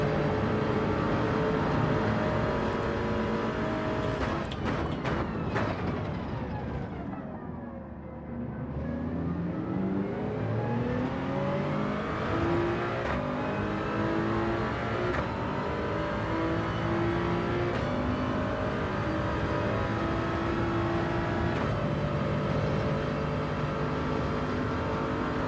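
A Toyota Supra race car in Gran Turismo 7 roars continuously at high revs, its engine pitch dropping sharply under braking then climbing again through repeated gear shifts, loud and close.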